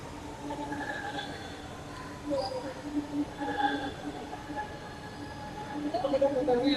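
A metro train speeds along an elevated line toward the airport, its steady rumble and rail squeal running throughout with brief tonal whines, growing louder toward the end, while a voice talks faintly over it.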